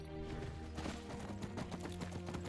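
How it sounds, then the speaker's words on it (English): Horse hooves clip-clopping in Skyrim, a rapid run of hollow rhythmic hoof strikes over a low tonal background, close and steady throughout. "So now we got our horse"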